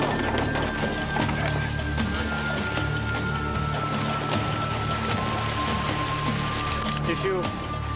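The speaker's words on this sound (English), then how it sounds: "Torrential afternoon downpours make conditions even more hazardous and give a taste of what is to come." A torrential afternoon rain downpour in Kalimantan falls in a steady, hissing wash of drops at moderate loudness, with a low hum and faint tones running underneath.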